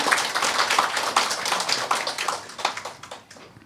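Church congregation clapping to welcome a newcomer, a short burst of brisk, moderately loud handclaps from a small group that fades out.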